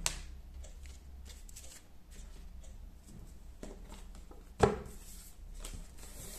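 A deck of tarot cards shuffled by hand during a love reading, with soft, rapid riffling and patter running throughout and one sharper snap of cards near the end, close and fairly quiet.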